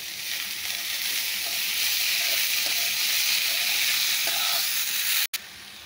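Potato and carrot pieces sautéing in hot oil in a pan for egg noodle biryani, giving a steady broadband sizzle that holds evenly throughout, close and alone, with a brief break near the end.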